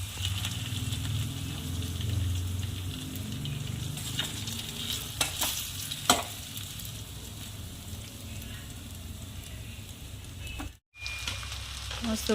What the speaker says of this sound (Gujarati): મસ્ત વઘાર થઈ ગયો છે